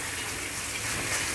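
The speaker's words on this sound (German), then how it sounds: "Einfach mit kaltem Wasser ein bisschen durchspülen, ruhig mit der Hand reingreifen" Cold water gushing and splashing steadily over rice being rinsed by hand, a close, continuous wash of running water without speech.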